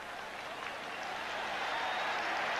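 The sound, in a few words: football stadium crowd applauding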